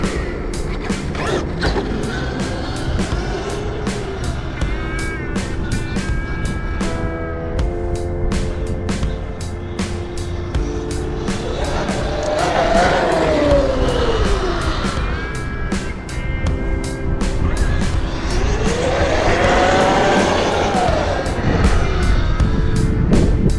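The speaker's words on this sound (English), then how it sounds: "right now we're going to be bashing her with our new batteries and doing a speed run real quick" An Arrma Outcast 8S RC car running on CNHL 4S 120C 9000mAh batteries makes a loud, close electric motor whine that climbs and falls in pitch as it accelerates and slows, over a steady rumbling mechanical drone.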